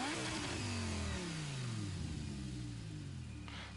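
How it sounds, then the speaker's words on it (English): Race car engine in a racing video game, loud and close, revving and sweeping down through the gears with a continuous roar and no speech. "Oh Jesus Christ, that RXV is loud"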